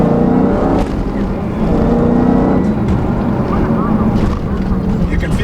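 A 2016 Dodge Challenger Hellcat with a six-speed manual, driven hard and braking heavily, heard from inside as loud, constant engine and road roar mixed with wind buffeting while someone talks.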